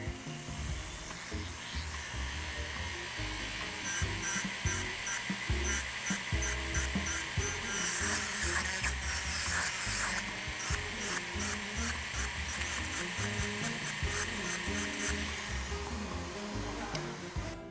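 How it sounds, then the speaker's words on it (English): A bristle disc on a rotary power tool scrubs the key levers of a Selmer Mark VI tenor saxophone, giving a steady, close abrasive whirring with rhythmic scratchy bursts throughout and no talking. "To clean up this area, I like to use this Bristle disc using a rotary powered motor."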